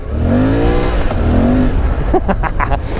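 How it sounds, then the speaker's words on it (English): A Suzuki V-Strom 800 DE motorcycle revs hard off-road with the rear wheel spinning, a loud rising engine whine that climbs twice, followed by gritty scrabbling and crunching bursts up close. "I love spinning the rear wheel like a maniac."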